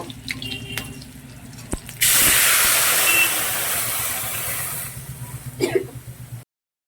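Dal is poured into hot oil tempered with panch phoron, giving a sudden loud rushing sizzle that bursts in and slowly fades over a few seconds before quieting to soft kitchen noise.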